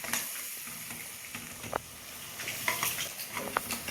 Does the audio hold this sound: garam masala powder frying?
yes